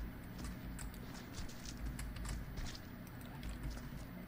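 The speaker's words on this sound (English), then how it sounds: "I thought I heard another footstep." Quiet, evenly paced footsteps tap softly and rhythmically throughout a gameplay scene in Viscera Cleanup Detail, faint beneath a low ambient hum.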